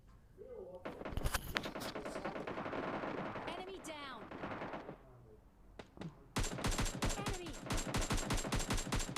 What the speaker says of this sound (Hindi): उसके बाद देखो मैं यहाँ से सिंगल टैप करते करते मार रहा हूँ इसको।